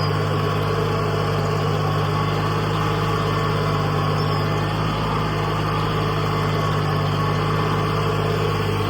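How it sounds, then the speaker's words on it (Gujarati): A farm tractor engine idles steadily in a field after harvesting work, a continuous low droning rumble with a constant hum and vibration, loud and close, with no talk over it. "હવે જો ટ્રેક્ટર સ્ટાર્ટ પડી જરા"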